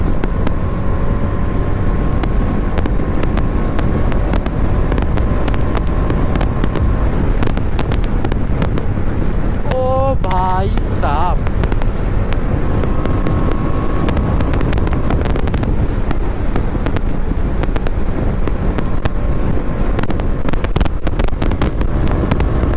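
Motorcycles cruising along the NH-34/12 highway from Kolkata to Siliguri in a group ride, heard as a steady engine drone buried under constant wind buffeting on the microphone, with no talk.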